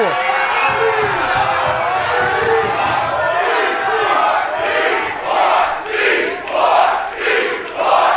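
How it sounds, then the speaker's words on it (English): A large pro wrestling crowd shouts and chants loudly, the voices swelling into rhythmic, pulsing bursts toward the end. "Might they be wondering why they're chanting C4 right now?"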